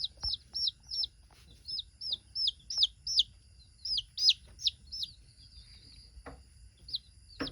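Local chickens cluck in short repeated bursts, fairly close and moderately loud, over a quiet low background with occasional thumps and no talking.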